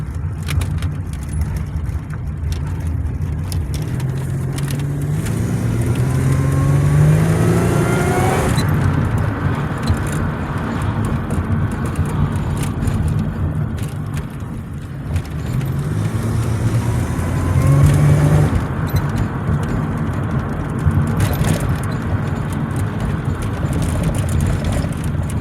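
A 1997 Pontiac Grand Am GTP with a 3800 V6 and five-speed manual driving on the road, engine droning steadily with two clear rises in revs as it accelerates through gears, road noise underneath, heard from inside the car.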